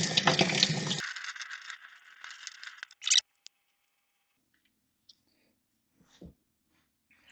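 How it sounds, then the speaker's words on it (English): Water splashes loudly while metal washers are rinsed, ending abruptly after about three seconds. A few faint clinks and small knocks follow in near silence. "Okay, so now I'm just going to rinse them off."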